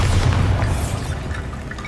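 A Bombarda blasting-spell explosion in Hogwarts Legacy lands as a loud, deep boom at the start, then decays into a rumbling, crumbling tail that stays heavy in the low end.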